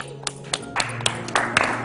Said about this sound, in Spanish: Un aplauso redondo